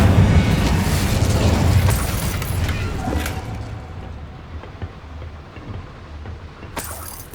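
A fiery Incendio spell bursts in Hogwarts Legacy, a loud booming whoosh with crackling pops up front that slowly fades into a low rumbling tail, with a sharp burst near the end.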